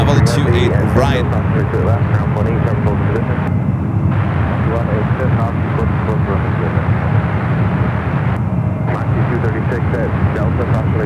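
A fixed-wing airplane lands on runway 28 right at San Francisco International Airport, its engine roar loud and steady throughout with a broad rushing tone, while people talk over it.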